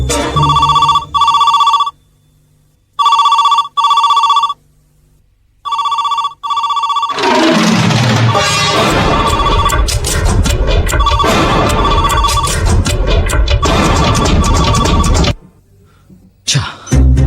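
A telephone rings on a home line in regular double bursts separated by short pauses, loud and close; after several rings a dense burst of other noise takes over.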